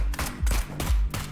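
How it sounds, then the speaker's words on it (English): A grenade bursts in the Neon Abyss video game as a quick series of punchy, booming blasts, about four in a row, loud and close with no talking. "A grenade."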